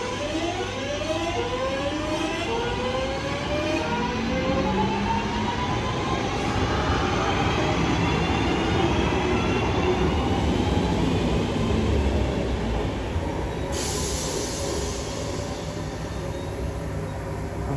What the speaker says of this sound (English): Train now departing is class 323